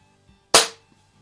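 A single sharp shot from a budget spring-piston air rifle, the Umarex Ruger Mark 4, during a field target shooting comparison: one loud crack with a short decaying tail, set against quiet background.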